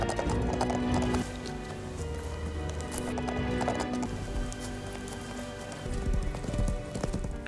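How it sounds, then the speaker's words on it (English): Horses galloping at night toward the coast, rapid rhythmic hoofbeats pounding close and loud, with a horse's whinny and a rain-like wash beneath. "Under the veil of night, the trio gallops desperately toward the coast."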